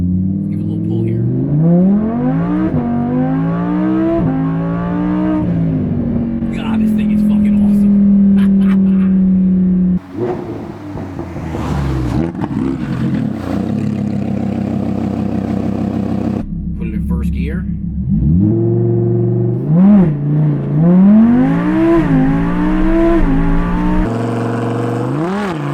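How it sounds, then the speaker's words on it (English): A Lamborghini Huracan LP610-4 engine revs up hard through repeated climbing pulls with gear changes, loud and close, rising and dropping in pitch, with no voices over it. "Let's give it a little pull here."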